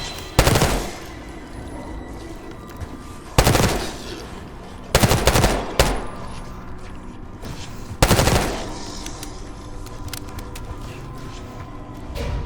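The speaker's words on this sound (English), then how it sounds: "You hearing gunfire? Yeah, sounds like it's coming from one of the lower floors." Gunfire in the video game Call of Duty: Black Ops 6: several loud, sharp bursts and rattling volleys at irregular intervals, separated by quieter mechanical ambience, with no talk.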